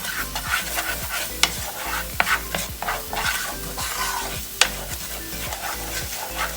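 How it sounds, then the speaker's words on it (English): Sazon seasoning being stirred into food in a pan, producing a rapid, regular series of close scraping strokes over a steady sizzle, with a few louder knocks of the utensil against the pan. "I'm going to give this a little mix"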